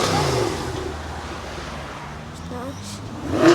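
Cars pulling away from an AMG and Porsche supercar meet, engine rumble rising and falling with a louder surge at the end, heard amid crowd chatter.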